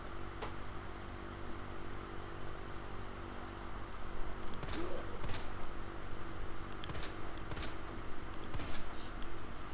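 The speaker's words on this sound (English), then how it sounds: "let's just use a magnum bullet, why not?" Gunshots in Resident Evil 2 Remake, a few sharp, loud reports spaced irregularly over a steady low game ambience hum.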